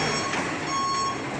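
A bus backing up at Merak port sounds a steady reversing alarm over engine rumble and busy harbour noise, close and continuous.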